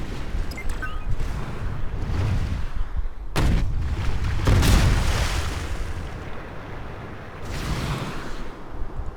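Mortar artillery booms in a futuristic Anno 2205 game battle: heavy thuds and rumbling blasts roll out one after another over a continuous din of combat noise.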